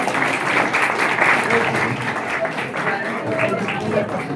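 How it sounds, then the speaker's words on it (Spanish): A class audience breaks into applause in a lecture room, a dense, steady patter of many hands clapping up close for several seconds, with voices mixed in underneath. "Aplausos."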